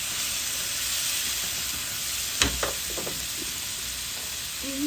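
Bombay potatoes fry in a pan with a steady, bright sizzling hiss throughout, broken by a couple of clinks and scrapes from stirring partway through.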